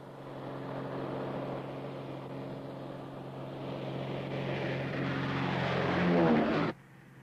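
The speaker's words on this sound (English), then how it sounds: "The water boils with fish coming to the surface in response to the sound of the plane." A propeller airplane drones steadily overhead while aerially feeding catfish ponds, growing gradually louder as it nears, then cutting off abruptly. No voices.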